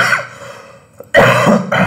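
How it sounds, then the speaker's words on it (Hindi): A man with a cough and cold gives harsh, throat-clearing coughs close to the microphone: a brief dull burst in the middle, then two loud, rough coughing bursts in quick succession. "बीच बीच में ये खांसी आपको परेशान कर रही होगी"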